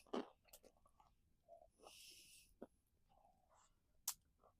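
Close, crunchy chewing of chicken-fried deer tenderloin cooked in a cast iron pan, eaten outdoors by a campfire, with scattered crisp bites and wet mouth sounds at a quiet level.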